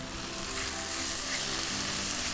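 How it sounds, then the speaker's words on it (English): Paprika and diced garlic frying in a pan give a steady, dense sizzle that stays loud and even throughout, with no talking. "Just want to cook off that spice, cook off the paprika"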